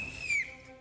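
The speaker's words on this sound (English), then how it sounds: "On my whistle, Matty." A referee's whistle is blown once to start a turn in a fan football challenge, a single short, loud, shrill blast that rises slightly before cutting off, with no talk over it.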